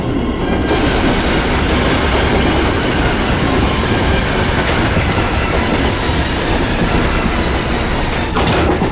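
A moving train roars loudly and continuously, a dense rumbling clatter of wheels on rails that fills the whole stretch without pause or talk.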